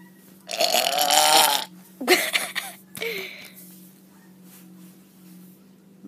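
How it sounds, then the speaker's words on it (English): A long, loud, gurgling burp comes first, followed by a couple of shorter vocal bursts and then a low steady hum in the background. "Burp."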